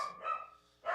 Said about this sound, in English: If y'all want to hear my dog, I'm sorry. She doesn't like delivery trucks